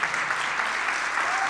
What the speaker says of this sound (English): Round of applause for Christina Foxwell